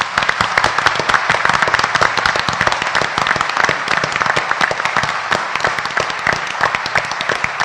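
An audience at a board of education meeting breaks into loud, close applause, sharp individual claps densely packed and steady throughout, with no talking over it.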